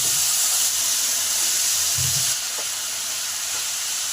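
Washed potatoes dropped into hot oil already frying asafoetida, chilli, cumin and bay leaf, a steady loud hiss of sizzling close by, without speech.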